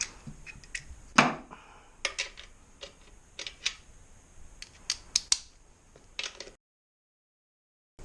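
Metallic clicks and ratcheting ticks come in quick irregular bursts while a nut is tightened on the rear wheel driveshaft of a Yamaha Virago, close and fairly quiet, then cut to silence near the end.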